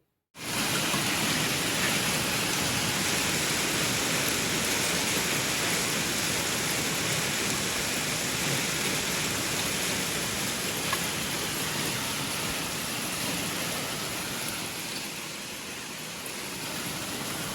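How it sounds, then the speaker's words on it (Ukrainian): Hail and rain pour down in Durrës, Albania, at the end of September, making a dense, unbroken roaring patter that starts abruptly and holds steady, easing slightly toward the end, with no one speaking. "кінець вересня ознаменувався тут у Дуросі в Албанії градом"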